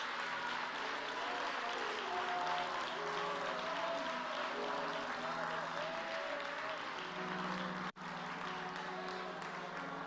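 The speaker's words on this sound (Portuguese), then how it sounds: "Mais palmas são para Jesus." Audience in a church service applauding steadily, a dense wash of clapping sustained for the full stretch with a brief dropout near the end, voices and music tones faintly mixed in.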